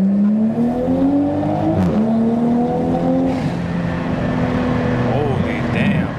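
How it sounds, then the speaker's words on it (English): A Toyota A90 Supra with a new Made Motorsports exhaust revs hard and close, a deep engine note climbing and falling repeatedly, while people talk over it. "It has a really deep tone to it."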